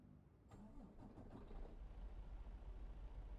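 A truck engine in American Truck Simulator cranks with a sharp start, then settles into a steady low idle rumble that holds close and even for the remaining few seconds.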